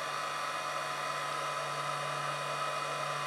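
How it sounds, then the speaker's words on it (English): Heat embossing tool blowing steadily as it heats embossing powder on a craft card from below, a constant close whirring hiss with a low hum, alone and unbroken throughout. "when I heat emboss, I always heat up from below."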